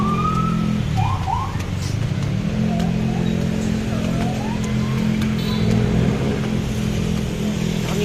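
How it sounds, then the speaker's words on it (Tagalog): City street traffic near an overpass, a loud continuous engine rumble with a vehicle accelerating and horn-like tones rising above it, and people talking under the noise. "Traffic."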